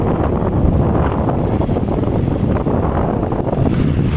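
An Astron Speedy desk electric fan runs at high speed after being repaired. A dense, steady rushing whoosh of moving air buffets close to the microphone for the full four seconds.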